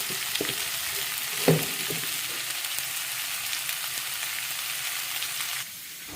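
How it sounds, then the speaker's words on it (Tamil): Big onions with a little salt sauté in a pan, giving a steady, fairly loud sizzle with a brief clatter of stirring early on. The sizzle eases slightly near the end, and no one talks. "இது வதங்கிக்கிட்டே இருக்குது. இன்னும் ஒரு 5 நிமிஷம் ஆகணும் வதங்கிறதுக்கு."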